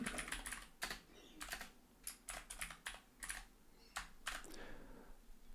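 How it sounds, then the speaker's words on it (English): Computer keyboard typing while coding in Python: irregular clusters of crisp key clicks, close and distinct, coming in short bursts with brief pauses, and no speech. "so when we type"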